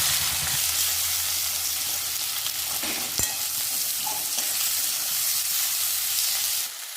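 Onions hiss and sizzle as they drop into hot oil with green chillies for a rohu fish kalia, a loud steady frying crackle with a sharp clatter midway, no talk.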